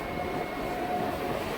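An EMU local train bound for Amghata leaves Digngar station, giving a continuous, even rumble with a faint steady whine and no talking.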